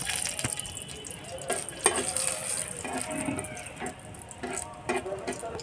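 Two dried red chillies frying in a little white oil in a frying pan, giving a faint, steady sizzle with a few light stirring clicks and no talking.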